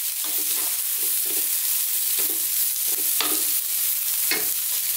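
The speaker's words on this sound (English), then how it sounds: "So we need to be constantly stirring, and we're going to do this for 2 minutes" Eggplant sizzles steadily in a hot pan for an Indian coconut masala curry, with repeated scraping stirs of a utensil breaking through the constant frying hiss at close range.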